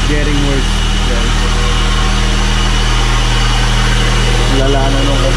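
Worn air conditioning compressor bearing on a Mitsubishi Lancer, a steady mechanical drone with a low hum and whirring over the idling engine, continuous and close throughout.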